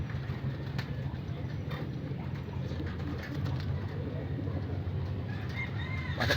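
Pet pigeons in a home loft give soft, low cooing that carries steadily under a dense chorus of other birds, with a few brief sharper calls breaking through.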